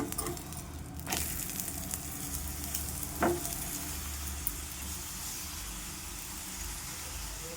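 Beetroot chapati cooking in a little oil on a pan, a soft continuous sizzle with a couple of brief clatters from handling the pan and no talk.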